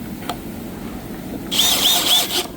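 A power drill briefly whirs as it drives a screw into white kitchen cabinetry during a remodel, a short high-pitched burst of about one second after a quiet pause.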